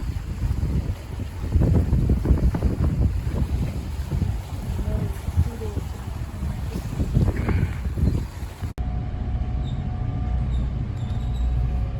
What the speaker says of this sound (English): We're taking the ferry back to Galveston Island.